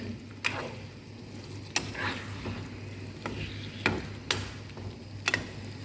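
Rice is cooking in a pot, heard as a quiet low simmering hiss broken by a handful of sharp, spaced clicks and taps of a utensil against the pot.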